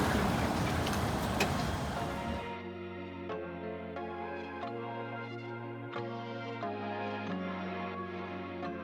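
Hearse car used for a ghost tour in Savannah, Georgia, pulling up with a low steady engine hum and tonal drone that follows a louder burst of wind and road noise, heard close with no talk.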